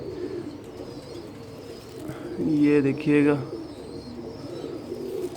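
An old breeder pigeon gives a pair of deep, throaty coos up close, while someone speaks quietly in the background amid faint ambient noise.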